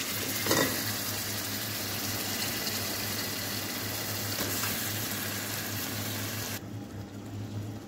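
Mutton sizzling and frying in a pan, a steady dense crackle held at an even loudness with a low hum underneath, cutting off abruptly near the end.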